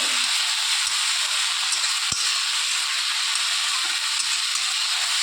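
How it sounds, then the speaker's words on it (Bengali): Onion, ginger and garlic paste fries in oil for an egg curry, producing a steady, loud broadband sizzle that holds throughout, broken only by a couple of faint clicks. "এই যে পেঁয়াজ আর আদা রসুনের যে পেস্টটা দিয়েছিলাম সেটা একটু কষিয়ে নিচ্ছি তেলের মধ্যে"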